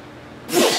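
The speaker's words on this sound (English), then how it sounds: "I gotta sneeze." A single sharp human sneeze bursts out after a brief quiet moment, close and fairly loud, ending abruptly.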